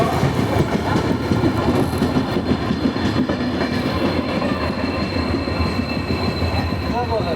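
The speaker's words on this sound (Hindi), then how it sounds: "आठ 8:01 पर हमारी ट्रेन निकल रही है ललितपुर जंक्शन से।" Amritsar Nanded Sachkhand Express departing Lalitpur Junction, heard from on board: steady close rumble of coaches with rhythmic clickety-clack and brief wheel squeal, moderately loud and continuous.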